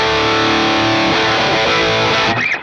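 Electric guitar on its bridge pickup with every control at full and stock tone, before the tone mod: a loud, distorted sustained chord for about a second, then busier played notes and a sudden cutoff.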